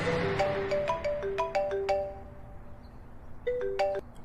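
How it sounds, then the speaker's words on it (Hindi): A phone ringtone chimes in an audio drama, a bright repeating melodic ring of short tonal notes playing alone and fairly loud, with a brief pause before a final burst of notes. "तभी उसका फोन बजा"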